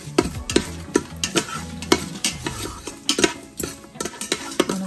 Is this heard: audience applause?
no